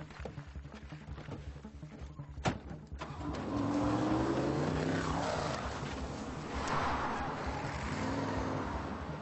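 A car driven off by the military police, its engine rising steadily and revving up, loud and close, after an earlier sharp knock, with no talking.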